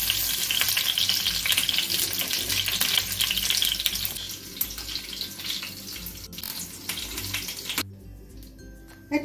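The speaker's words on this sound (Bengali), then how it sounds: "একইভাবে পটলগুলো আমি এভাবে লাল করে ভেজে নেব।" Pointed gourd (potol) slices fry in hot oil with a loud, dense, continuous sizzle that gradually eases off, then drops to near quiet at the very end.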